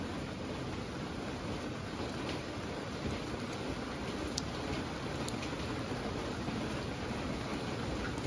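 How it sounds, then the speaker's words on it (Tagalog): Steady rain falls outdoors on the property where a neglected Nissan Sentra EX Saloon is being revived, a dense continuous hiss with a few sharper drop hits now and then and no voices. "Umuulan, umaaraw."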